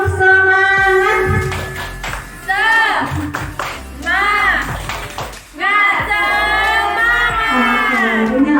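A room of teachers at a training session does a rhythmic 'tepuk semangat' spirit clap, bursts of patterned handclaps mixed with loud chanted voices calling along in time.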